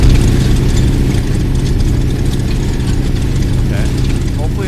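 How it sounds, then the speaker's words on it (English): A generator engine runs steadily in the VR game Arizona Sunshine, a loud, close, continuous low droning hum that holds level throughout. "There's another generator here."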